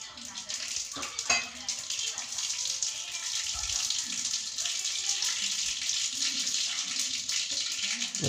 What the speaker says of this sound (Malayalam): കടുക് നന്നായിട്ട് പൊട്ടണ്ട് ഓഫ് ചെയ്തു.